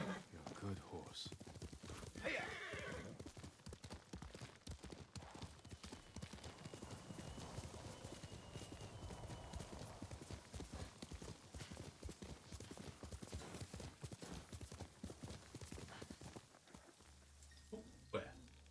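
Rapid, continuous horse hoofbeats clip-clop at a steady trot in Ghost of Tsushima, with a brief whinny, while a person talks over the galloping.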